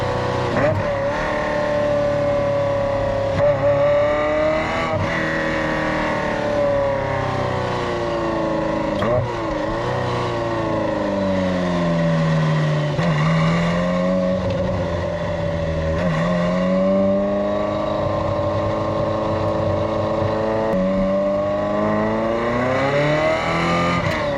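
Ferrari F355 Challenge car engine revving and accelerating through the gears on a test drive, a loud, sustained interior engine note rising and falling in pitch with gear changes, with a voice talking over it.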